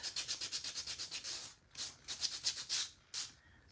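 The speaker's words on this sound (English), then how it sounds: "a decent piece of sandpaper will make a world of difference" Sandpaper scrubbing over a painted craft piece to distress the paint, heard as a quick run of rhythmic rasping back-and-forth strokes, then a brief pause and a few more bursts of close, dry scratching.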